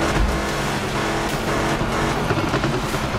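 A car engine roars and revs continuously in a demolition derby video game, loud and steady with a thick low rumble and no voices.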